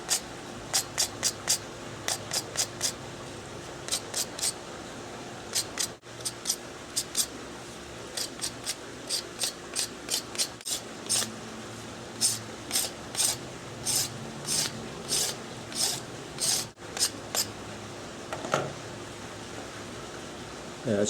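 A file smooths the burrs left by branches on a wooden pump drill shaft, giving repeated short rasping strokes in uneven bursts, close and fairly quiet.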